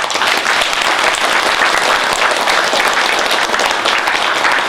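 Sustained applause from a large assembly at a Buddhist university graduation ceremony, steady and dense throughout with no break, loud and close.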